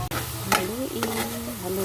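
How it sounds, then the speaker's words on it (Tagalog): Laing, taro leaves simmering in coconut milk with vinegar, soy sauce, sugar and pepper, stirred in a pan, giving a few scraping strokes over a steady bubbling simmer. "Haluin natin."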